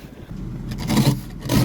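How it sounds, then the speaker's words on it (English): Snow and ice being scraped off a 2022 Hyundai Kona AWD window in the cold: a short, close, rough scrape in two strokes that rise and fall in loudness. "Ignore the window scraping"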